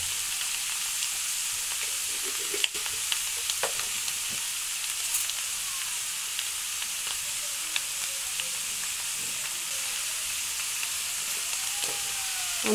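Papaya frying in a pan with turmeric makes a faint, steady sizzle and hiss, broken by a few scattered clicks of stirring. The sound stays quiet and even throughout, and no one speaks.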